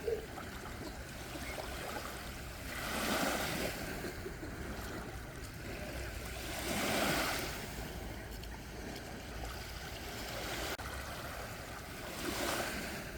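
Sea waves rolling in slow surges, each swell building and receding roughly every four seconds over a continuous wash of surf.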